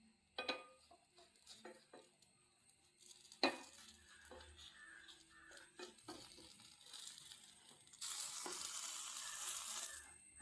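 A spoon stirs food in a pan while cooking a rava and coconut breakfast, with quiet scrapes and sharp knocks against the metal, followed near the end by a louder, steady sizzle.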